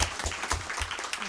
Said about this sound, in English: our AP teachers and our students with a round of applause